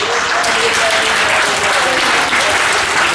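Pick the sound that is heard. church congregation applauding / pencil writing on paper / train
church congregation applauding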